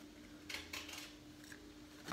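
Scissors cut through paper card, a few quiet snipping crunches spaced out over a faint background hum, ending with a sharper closing snip.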